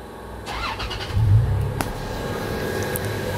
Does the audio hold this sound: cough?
no